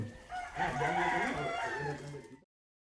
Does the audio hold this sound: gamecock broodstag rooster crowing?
yes